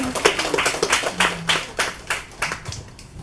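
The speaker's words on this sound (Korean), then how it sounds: "박수." Audience at a bookstore book concert and author talk claps in an uneven, thinning patter of individual hand claps, close and moderately loud, with a faint voice or two underneath.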